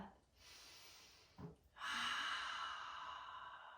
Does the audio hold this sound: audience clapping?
no